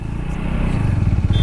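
Naked sports motorcycle engine idling and chugging at a forest river crossing, a steady close low throb with slight revving and clatter, no voices.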